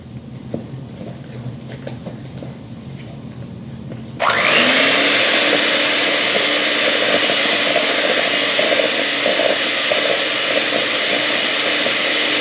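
Home-canned white potatoes with milk and ghee are beaten in an electric mixer, which starts abruptly after a quiet moment of faint clinks and then whirs loudly and steadily at close range.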